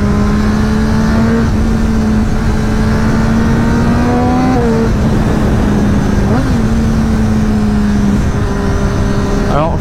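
A Triumph Daytona 675 triple with an Arrow exhaust revs close and very loud. The engine's pitch climbs and drops several times, with sharp blips near the middle and the end.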